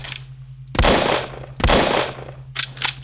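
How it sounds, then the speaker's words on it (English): Gunshots fire in a video game, three separate loud blasts with short pauses between them; the last one breaks into a quick double crack. "Or can I shoot it out of the way?"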